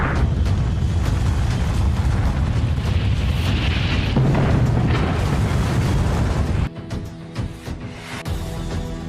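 A massive, sustained roaring boom with deep rumbling that fills the space, then abruptly cuts to a quieter, hollow aftermath.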